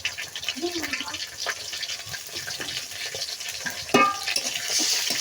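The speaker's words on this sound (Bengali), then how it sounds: "দিয়ে আমি এটা একটু কষিয়ে নেব।" Ginger and garlic paste sautéing in a pan with a steady soft sizzle and occasional stirring scrapes, a sharper clatter near the end, continuous and close.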